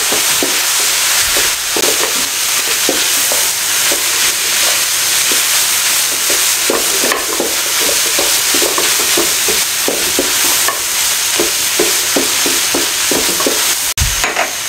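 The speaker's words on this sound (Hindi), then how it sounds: "इसको तकरीबन 2 से 3 मिनट अच्छे तरीके से इसके अंदर इस तरीके से मिक्स करते रहें और इसको अच्छे तरीके से फ्राई कर लें" Chicken pieces stirred and fried in a pan for a sandwich filling, making a loud, dense, continuous sizzle with frequent clicks and scrapes of the stirring spoon, close up and without speech.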